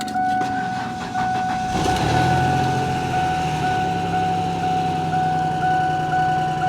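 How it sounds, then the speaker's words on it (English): A Mazda RX-8 with a manual gearbox idles steadily and loudly nearby, its engine note a little rattly, with constant tonal hum and a rough mechanical texture throughout and no talking. "Engine's a little rattly."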